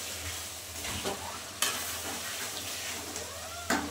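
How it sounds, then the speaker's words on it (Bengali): Potatoes sauté in a pan of hot oil with a soft, steady sizzle. A few distinct scrapes from stirring stand out, and no one speaks. "এবার কিন্তু আমি আলুগুলো দিয়ে একটু কষাবো"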